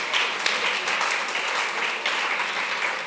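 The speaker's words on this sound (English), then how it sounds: "And a big applause for Jaume and Davinia" A room full of people applauds at the close of a session at a gastronomy summit, a dense, continuous wash of clapping at an even, fairly loud level from start to finish.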